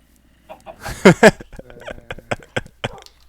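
Minecraft chicken clucking, a few short clipped clucks in quick bursts followed by evenly spaced pulses, fairly close and clear with no talk over it.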